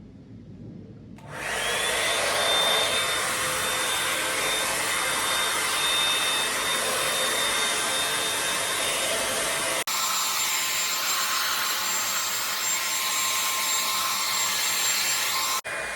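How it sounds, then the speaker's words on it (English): An Urban Yog hot air brush blows air while drying hair, a steady loud whoosh and motor whine that kicks in after a second and shifts in tone midway as the setting changes, with no talking. "you can dry your hair with cool air so it doesn't damages your hair also"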